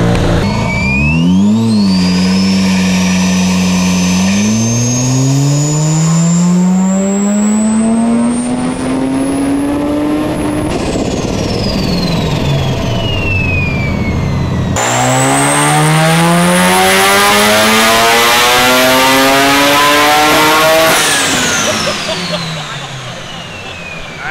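A built Mazda RX7 engine on a dyno screams loud and close through two long pulls, its pitch sweeping steadily up to a high rev limit, then falling away; raised voices are faintly mixed in.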